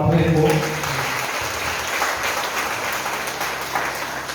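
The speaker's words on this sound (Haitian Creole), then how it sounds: "La demande pour l'applaudir encore une fois très fort" Audience applause at an International Women's Day gathering in Camp-Perrin, a dense, steady clapping that fills the whole stretch, with a voice speaking over it at the start.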